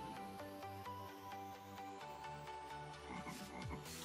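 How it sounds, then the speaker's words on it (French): Frog croaking in a modded survival video game, a loud, steady pulsing croak repeating in rapid rhythm for the whole stretch, close and alone with no talk over it. "ça c'est ma vraie grenouille."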